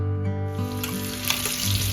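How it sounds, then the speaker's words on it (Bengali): Eggs frying with onions in a home kitchen pan, a steady close sizzle with a hissing, watery quality and a few brighter spits, heard alone without talk. "ডিম ভাজা"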